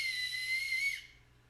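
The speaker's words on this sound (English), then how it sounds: "Figuring out their own whistling on acorns." A shrill, steady whistle blown on an acorn cap holds one piercing tone for about a second before cutting off, leaving quiet behind it.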